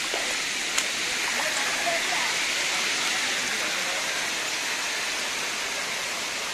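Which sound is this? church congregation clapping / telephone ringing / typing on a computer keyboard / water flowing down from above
water flowing down from above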